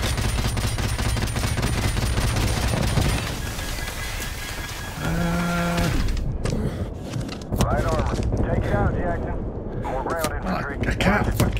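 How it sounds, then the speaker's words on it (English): Dense, sustained gunfire and rapid bursts in Call of Duty: Modern Warfare Remastered, a loud, continuous crackle with a brief tonal alarm in the middle, under a voice talking. "Who's shooting at me?"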